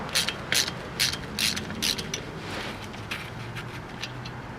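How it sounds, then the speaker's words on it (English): A ratchet loosening the 13mm nut that holds the CV shaft on a Ford F150 during wheel hub replacement: a series of quick, bright clicking bursts in an uneven rhythm, close by, with a faint background hum. "And now remove the nut, which is a 13mm. That's what holds the CV shaft in place."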